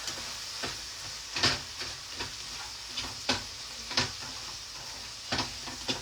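A spatula stirs food in a pan that sizzles steadily, with repeated scraping strokes at an uneven rhythm, close and moderately loud.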